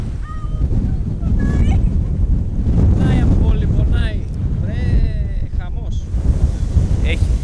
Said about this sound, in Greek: έχει λίγο αεράκι. Σε σπρώχνει να μπεις μέσα στο νερό.